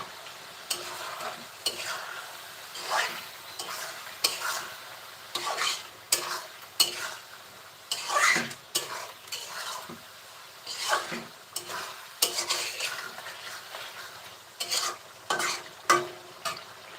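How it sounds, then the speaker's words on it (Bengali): Chicken meat stir-fried with turmeric powder and spices in a home-style Bengali pan, rhythmic scraping and clattering spoon strokes over a soft sizzle, close and repeated at an even pace, with no talking. "হলুদের গুঁড়া সব মশলার সাথে মাংসটা এখন খুব সুন্দরভাবে কষিয়ে নিব"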